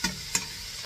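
Mushrooms going into a hot pan for a garlic Alfredo sauce, giving a steady soft sizzle and frying hiss with two brief sharp clinks near the start, close and fairly quiet, no talk.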